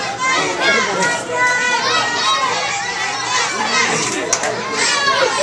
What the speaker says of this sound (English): Crowd over there on the back wall chanting for Blackjack.